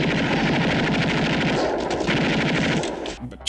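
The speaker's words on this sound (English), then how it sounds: "the last 20 minutes is a non-stop hail of bullets and explosions" Sustained automatic gunfire in a film's final battle, rapid overlapping bursts of machine-gun shots forming a dense, loud hail that runs nonstop, with heavier impacts rumbling underneath and a brief break near the end.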